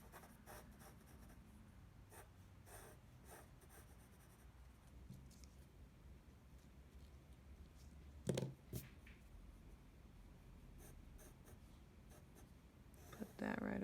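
A pencil sketches steadily on paper, a soft continuous scratching and rubbing of graphite with short pauses and strokes, close and quiet, with a couple of brief louder knocks near the end.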